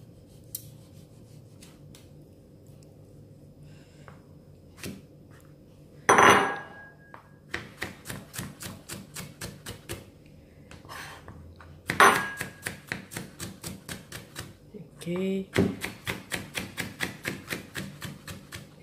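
A knife chops tomato into small pieces on a board for a bitter gourd salad: rapid, crisp taps come in several quick runs separated by short pauses, with a few louder knocks.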